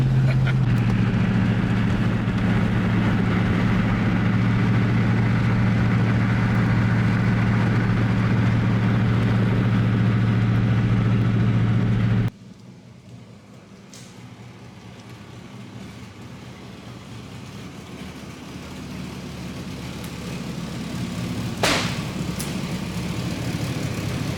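A 1977 Pontiac Grand Safari station wagon engine drones loud and steady while driving, then the sound drops sharply to a quieter rumble that slowly builds again.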